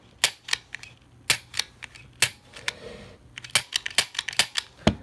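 A Taurus G2 Millennium 9mm pistol gives sharp, close mechanical clicks as its trigger is pulled and reset, with irregular single snaps separated by short quiet gaps, and no talking.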